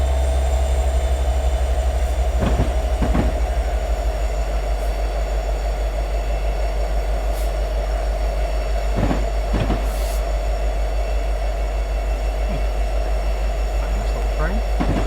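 Locomotive in Train Simulator 2020 rolling steadily, with a constant low rumble and a sustained tone, intermittent clanks and squeals at irregular points, and no talk over it.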